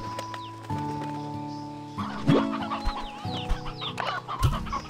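Elder Hen in the video game Slime Rancher 2 clucking in short, repeated bursts over a steady droning game soundtrack, with other game effects mixed in.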